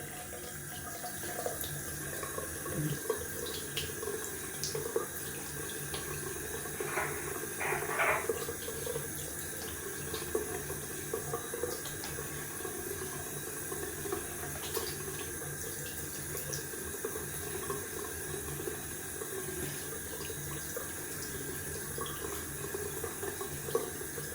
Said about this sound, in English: We're gonna wash off with some cold water.